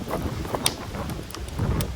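Steady, heavy wind at a campsite roaring and buffeting against the microphone, with a few brief sharper gusts.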